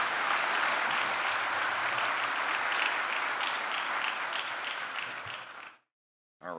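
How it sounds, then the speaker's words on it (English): Dense, steady applause from an audience at an insurance claims professionals awards ceremony, loud and continuous for several seconds before stopping abruptly. "Round of applause for Katie"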